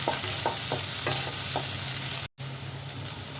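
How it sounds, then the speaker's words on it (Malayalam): Green chillies and curry leaves sautéing in oil for mushroom masala, an even close sizzle with a few light spatula scrapes early on and a brief dropout midway, no talk. "ഒരു ലൈറ്റ് ഗോൾഡൻ നിറമാവുന്നത് വരെ ഇതൊന്ന് നമുക്ക് നന്നായി വഴറ്റിയെടുക്കണം"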